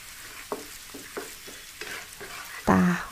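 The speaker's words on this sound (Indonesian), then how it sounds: "kita aduk-aduk. Diaduk-aduk ini sampai layu aja lah, jangan sampai kering ya" Vegetables wilting in oil in a pan, stirred with a series of soft scrapes at an uneven pace under a faint steady sizzle, ending in a sharper clatter of utensil against pan.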